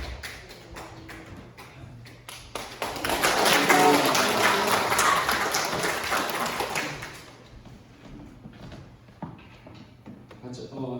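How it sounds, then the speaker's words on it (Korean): A Korean church congregation applauds to welcome a pastor to the pulpit, the clapping swelling loudly in the middle before fading, with a few scattered taps and claps around it. "여러분 할렐루야로 크게 박수로 환영해 주시기 바랍니다"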